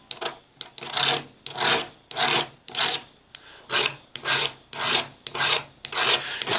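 Small triangular hand file rasping along the blades of cheap dollar-store scissors, a dozen or so quick scraping strokes in a steady back-and-forth rhythm, close and clear with no talking.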